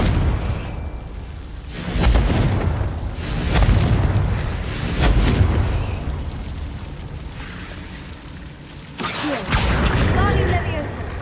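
Confringo fire spell blasts in the video game Hogwarts Legacy, several booming bursts spaced a second or two apart, with a final whooshing blast near the end, loud and close over game ambience.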